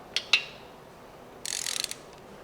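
A ratchet working on engine bolts of a 1969 VW Beetle 1600cc engine: two sharp metallic clicks, then a quick rapid clicking run, close and clear with no voices.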